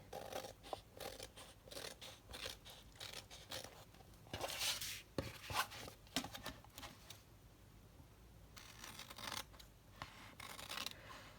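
Scissors snipping through paper envelope sections for a junk journal cover, a quiet, close run of crisp cuts and rustling paper in irregular bursts with short pauses.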